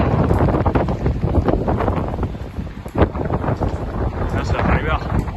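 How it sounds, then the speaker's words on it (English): Strong gusts buffet the microphone in rough, roaring bursts at the top of Blackpool Tower in wet weather, with a voice talking under the wind. "Whoa, but it's windy and wet."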